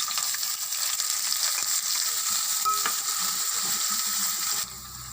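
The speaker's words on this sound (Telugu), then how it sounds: "ఉల్లిపాయలు కూడా తాలింపులో వేసేసుకుందాం." Chopped onions dropped into hot tempering oil with dried red chillies and curry leaves for a bottle gourd masala curry, giving a steady close sizzle with stirring scrapes that drops quieter near the end.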